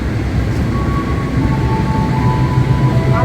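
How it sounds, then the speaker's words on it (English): An Indonesian passenger train rumbles steadily and loudly at close range, with a low rolling drone and a faint, high tonal whine running through it. "Train."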